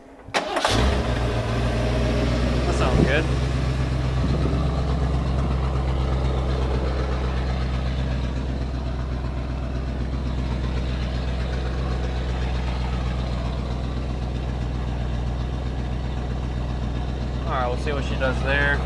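A truck engine, a Ford with an E4OD transmission, starts and then idles steadily while warming up, a loud, close, continuous low rumble; a person talks briefly near the end.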